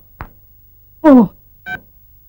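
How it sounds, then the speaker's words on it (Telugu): Telephone keypad tones ring out as a number is dialed, a few short separate beeps spaced unevenly, loud and close with no voices. "ఈసారి నెంబర్ కరెక్ట్ కొట్టాలి"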